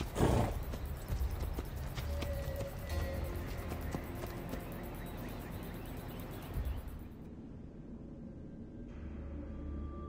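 A horse in Assassin's Creed Odyssey clip-clops with hooves and gives a snorting neigh among game ambience and music, loud at the start and then settling into steady movement before fading.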